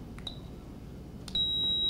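A modified motion detector with an added buzzer, used for ghost hunting, gives a brief high chirp, then sounds a steady, piercing high-pitched tone that holds to the end.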